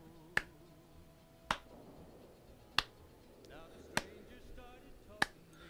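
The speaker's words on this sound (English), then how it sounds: "The game gets a slow clap." Five sharp, evenly spaced slow claps from the video game Fallout New Vegas, each a crisp single crack about a second apart, with a quiet voice murmuring between them.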